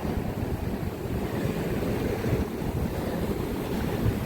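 Ocean waves surging and breaking on a Tasmanian beach in winter, a steady, dense roar of surf with wind buffeting the microphone throughout, no voices.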